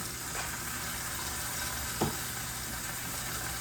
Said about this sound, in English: we're gonna brown this chicken on both sides